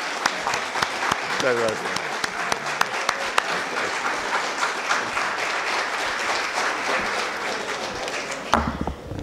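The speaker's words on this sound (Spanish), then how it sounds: "Puedes repetir ese aplauso con mucha fuerza, señores" Dense, steady applause from a lecture audience after a talk on the fifth power in communication and society, filling most of the stretch before fading out near the end, with a voice briefly heard over it.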